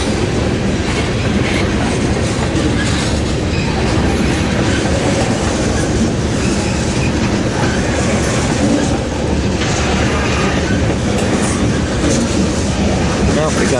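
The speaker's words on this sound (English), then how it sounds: "And we had CN leading this train heading south" A southbound freight train led by a CN locomotive with a BNSF unit pushing rolls past close by in Nebraska, a loud continuous rumble with rhythmic clickety-clack of wheels and occasional squeal throughout.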